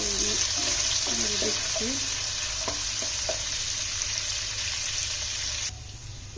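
Whole cinnamon sticks, cardamom pods and a bay leaf fry in hot oil for broiler chicken biryani, giving a steady loud sizzle throughout with a few soft stirring knocks, and a short spoken word partway through.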